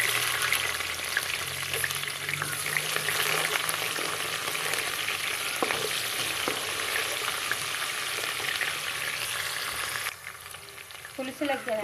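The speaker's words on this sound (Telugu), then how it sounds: "జీలకర్ర మెంతులు ఇట్లా వేగుతున్నప్పుడు కట్ చేసుకున్న ఒక ఉల్లిపాయ వేసుకోవాలండి." Onion frying in hot oil with cumin and fenugreek seeds for a Nellore fish curry: a loud, steady sizzle with occasional stirring clinks, easing slightly near the end.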